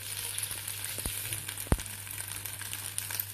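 Sauce stirred in a wok for pad thai, a steady low sizzle with soft scraping and a couple of sharp knocks from the utensil against the pan, close and alone.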